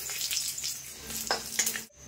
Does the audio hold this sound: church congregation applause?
no